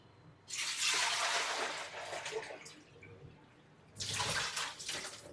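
Running water at home for washing, two loud bursts of splashing flow separated by a brief lull, close and alone.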